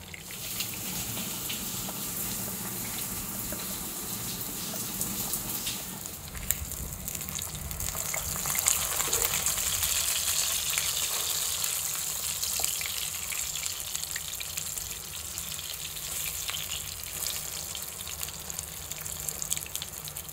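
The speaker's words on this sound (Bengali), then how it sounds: "মাছ ভাজা করে নিচ্ছি, কারণ আজকে দুপুরে আমি শুধু এটা দিয়েই খাবো।" Fish fry in oil with a constant, dense sizzling hiss, close and even throughout with faint pops and no voices.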